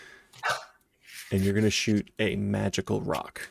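Dogs bark in the background of a home stream, with short sharp barks that are partly masked by a person speaking over them.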